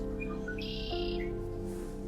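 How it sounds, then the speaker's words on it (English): Several short red-winged blackbird whistles and chirps ring out against a steady low hum, with one longer buzzy trill in the middle, fairly close. "so many red-winged blackbirds that are just so pissed at me right now"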